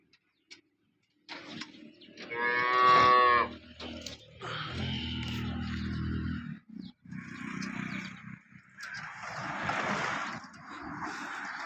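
A local farm cow in Tharad, Banaskantha, six days after calving, moos repeatedly in long, loud, close calls, with other lowing and bellowing from nearby cattle overlapping across the stretch.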